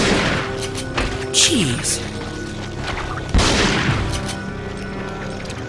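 Gunshots in Resident Evil 4, a few loud booming blasts with a heavy hit near the middle, set among game effects while someone talks briefly.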